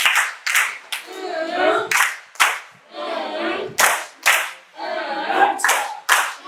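Rhythmic group clapping in a classroom, a patterned 'love clap' with sharp bursts of claps separated by short chanted vocal stretches, loud and close.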